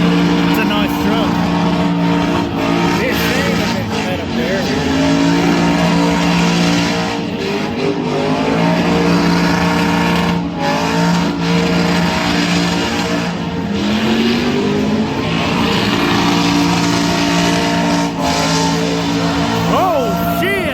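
A clean truck does burnouts against the wall at Bristol, its engine roaring loud and continuous with rising revs and squealing tires, while spectators talk excitedly over the noise.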